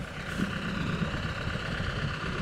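A tractor engine drones under heavy load as it pulls a heavy disc harrow through loose sandy soil over grass. The rumble is loud, steady and close, with no talk.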